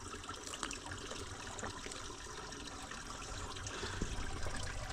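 Underground well water in an African village pours and trickles in a continuous, close splashing stream for drinking, steady throughout with no talking.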